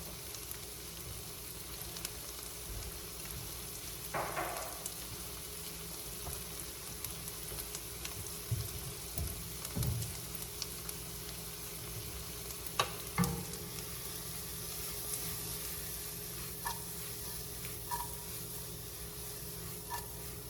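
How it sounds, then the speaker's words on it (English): Shallots sautéing in sizzling butter in a pan, a steady quiet sizzle with a few scattered clicks and stirring scrapes. "Right now, the butter is sizzling, so we're gonna go ahead and add the shallots."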